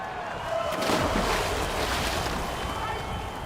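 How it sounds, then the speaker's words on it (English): A homemade flying machine at a Red Bull Flugtag event plunges into water, making a sharp splash about a second in that settles into a rushing wash of water and wind buffeting the microphone. "An almighty splash though."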